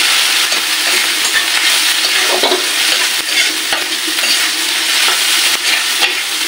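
Tomato paste stirred in hot oil for a lentil dish, a steady close sizzle with scraping spoon strokes throughout, no voices.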